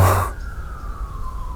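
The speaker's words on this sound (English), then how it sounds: "This is the way that we can actually be aware of the siren going by." An emergency siren passes by outside, a single wailing tone that fades and slides slightly lower while a low background hum continues.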